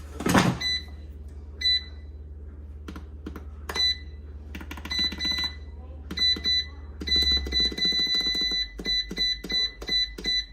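Rapid bursts of high electronic beeping from an air fryer timer, in clusters, with clicks and taps between them over a low steady hum.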